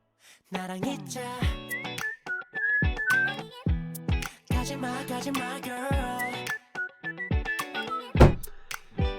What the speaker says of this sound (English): And now whistling melody for the chorus,